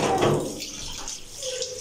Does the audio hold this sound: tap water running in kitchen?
yes